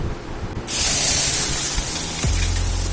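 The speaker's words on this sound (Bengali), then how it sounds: "এবার আমি যে পেস্টটা রেডি করে রেখেছিলাম সেই পেস্টটা দিয়ে দিচ্ছি, সর্ষে আর পোস্ত।" A mustard and poppy seed paste hits hot oil already seasoned with turmeric, and a sudden loud, sustained hiss and sizzle bursts out just under a second in, then settles into a steady crackle.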